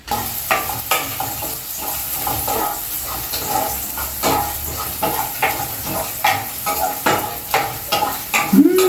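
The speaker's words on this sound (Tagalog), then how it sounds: "gisa na natin ito guys." Garlic, onion and tomato sauté in a pan, a soft sizzle broken by repeated stirring scrapes and clinks of a utensil near the mic.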